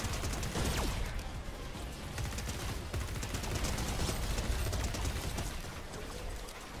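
A rifle with a very high fire rate shoots nonstop in a video game, a dense, loud, unbroken barrage of rapid shots lasting throughout with no voices.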